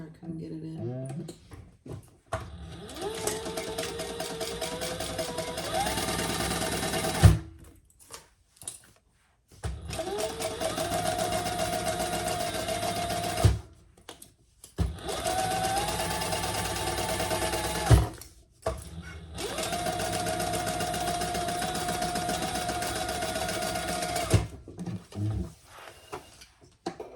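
Sewing machine stitching a seam in several bursts of a few seconds each, a fast whirring motor drone with rising and falling pitch, separated by short quiet pauses, up close, with a voice speaking between runs.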